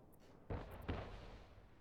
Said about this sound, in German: Schiff unter Beschuss.